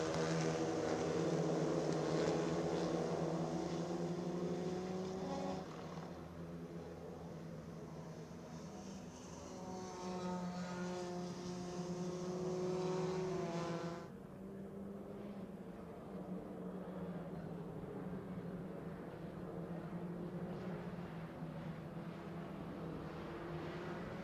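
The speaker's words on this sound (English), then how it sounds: "We are driving fast into the Kevin Schwantz corner" Clio Cup and Mazda Cup race cars run at the Brno circuit, with a steady droning engine note that shifts pitch partway through and continues as a sustained mid-distance roar.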